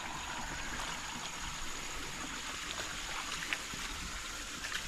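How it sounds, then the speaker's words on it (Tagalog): Water rushing steadily downstream through a channel in a drying river, a close, continuous broadband flow with no breaks, and faint occasional splashes riding on top. "Para mabilis ang tubig pa ibaba."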